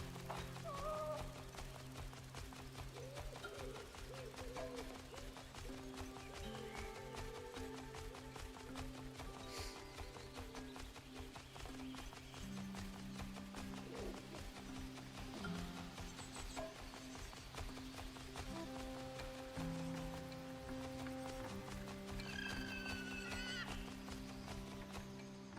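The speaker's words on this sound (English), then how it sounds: "Sounds like a horse." A video game horse gallops with steady clip-clopping hooves and gives an occasional neigh, heard over busy game music and ambient sound throughout.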